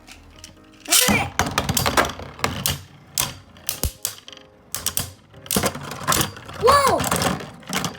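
Beyblade Burst spinning tops clash in a stadium, giving sharp repeated clacks and knocks in irregular bursts. They sound close and fairly loud. Excited voices shout over them.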